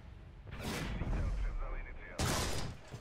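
Two heavy tank cannon blasts from a War Thunder tank battle, one near the start and a sharper, louder one later, with a voice talking between them.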